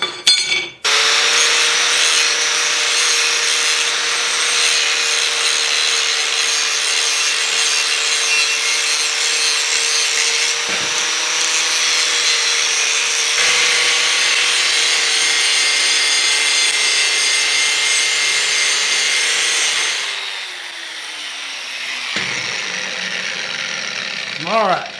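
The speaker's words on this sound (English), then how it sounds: "I'm going to grind this edge real quick" An angle grinder cuts steadily into the edge of a steel plate in a workshop, grinding off mill scale down to bright metal. The loud, continuous whine holds for about twenty seconds, then drops in pitch as the tool winds down.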